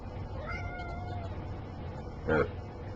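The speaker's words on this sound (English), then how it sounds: "This is my cat." A pet cat meows nearby, giving a drawn-out meow followed by a shorter, louder one, over a steady low room hum.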